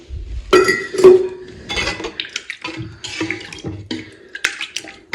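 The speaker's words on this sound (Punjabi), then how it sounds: "ਮੈਂ ਇਹਦੇ ਵਿੱਚ ਸਭ ਤੋਂ ਪਹਿਲਾਂ ਇੱਕ ਜੱਗ ਪਾਣੀ ਪਾਣਾ" Water splashes unevenly into a metal pot at close range as a jug of water is poured in for churning yogurt into butter, with clinks and knocks of cookware between the pours.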